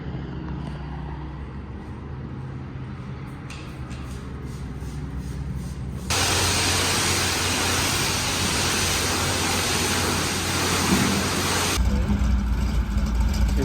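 A 1978 Ford Ranchero, back on the road after 35 years, runs with a steady engine rumble that swells suddenly louder as it pulls away, a loud broadband roar holding near before easing off.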